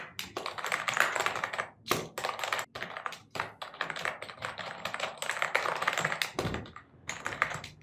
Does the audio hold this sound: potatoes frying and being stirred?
no